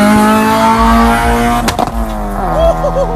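A modified Honda car with an aftermarket exhaust revs loudly and close up, the engine note rising and falling, followed by crackling pops and a rough idle as the revs drop.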